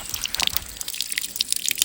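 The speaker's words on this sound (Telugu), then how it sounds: "కుళాయిలా పెట్టేసుకున్నారు ప్రతి ఇంటికి నీళ్ళు ఇలాగా" Spring water piped from a hillside source in a tribal village near Araku runs from a household tap, a steady close splashing trickle with bright drips throughout.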